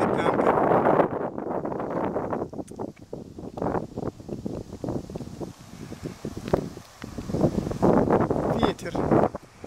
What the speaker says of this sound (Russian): Ветерок.